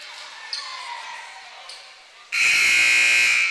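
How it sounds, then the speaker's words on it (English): A loud, sustained electronic buzzer sounds at a high school basketball game in Wrangell, cutting in abruptly after quieter gym ambience and squeaks and holding steady to the end. "And there's the buzzer telling the athletes to get back on the court."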